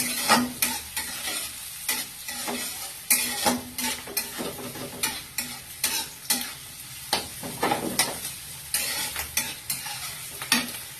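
Chopped onion and capsicum sizzle in a hot pan while a spatula stirs in a brisk, regular scraping rhythm. The sound is close and continuous, with no speech.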